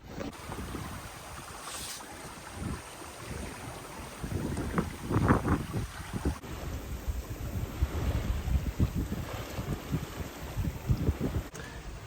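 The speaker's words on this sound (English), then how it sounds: "Sailing along super nice now, doing almost 5 knots." A sailboat moves along at almost five knots on a sunny day off the Algarve coast. Wind buffets the microphone steadily, and water rushes and splashes against the hull in irregular surges. There is no talk.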